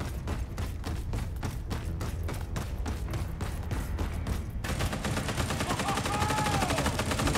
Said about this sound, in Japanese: あ、別の銃声もするね。